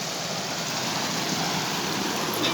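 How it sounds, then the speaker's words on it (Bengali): Water pours down from above at a temple tunnel, making a steady, dense rushing wash that holds evenly throughout at moderate loudness, with no voices. "দেখো কিভাবে জল বেরোচ্ছে ভেতর থেকে, এই যে উপর থেকে জল আসছে।"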